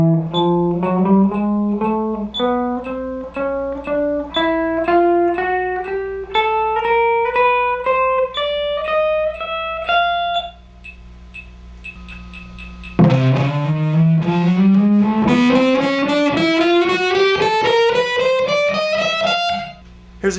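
A guitar plays a slow passing-tone scale exercise, single notes climbing steadily step by step in two ascending runs, each note held clean and evenly spaced with no voices.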